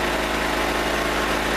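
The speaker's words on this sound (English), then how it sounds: "I'm gonna shut the gas off. Let it run the gas out of the carburetor." A small Generac generator engine runs steadily with its fuel shut off, burning the remaining gas out of the carburetor; a loud, continuous idling drone with no talk.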